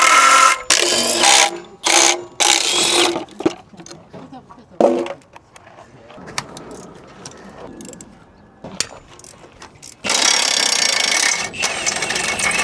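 A ratchet wrench cranks in quick bursts of clicking while bolts come off a car's flex plate at a salvage yard, loud close ratcheting broken by quieter pauses and mechanical clatter.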